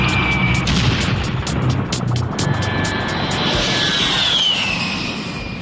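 A loud A-10 jet aircraft engine roars steadily and continuously, with a rising high whine sweeping across the middle of the sound.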